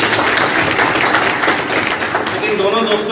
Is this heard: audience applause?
yes